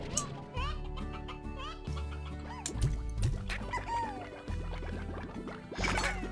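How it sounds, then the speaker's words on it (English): Chickens in the video game Slime Rancher cluck and squawk in repeated short bursts over steady game music, close and clear, with a voice speaking briefly in the background. "you can also grab the chicken."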